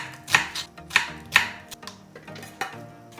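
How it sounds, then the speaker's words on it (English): A knife chops half an onion on a cutting board for seafood noodles, giving three sharp, evenly spaced cuts up close, then several softer taps and scrapes. "Cut half the onion into a suitable size."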